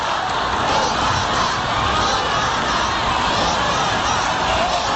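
A large outdoor crowd at Obama's second presidential inauguration roars with steady cheering and chanting, a dense, continuous wash of voices at constant loudness.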